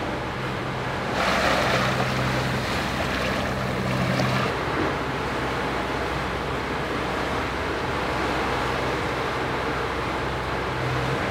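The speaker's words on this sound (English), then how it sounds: "So we are just motoring, headed out to depth of about 300 feet, 100 meters or so." A sailboat motoring under engine power at sea in light wind, a low steady engine hum under broad rushing water and wind noise, with a louder wash in the first few seconds.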